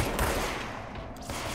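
An enemy's gun fires rapidly in the video game Control, a short, dense burst of crackling shots that fades slightly over under two seconds.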